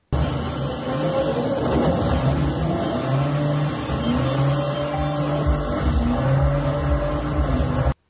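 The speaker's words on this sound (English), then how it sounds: "Or gaming, like trying to drive a car." Racing video game car engine droning steadily with shifting pitch as the car accelerates and changes gear, continuous and fairly loud from start to finish, then cutting off abruptly at the end.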